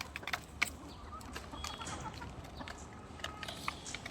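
Layer hens on a poultry farm cluck and peck at feed in short scattered bursts over a steady background hiss, soft and fairly close.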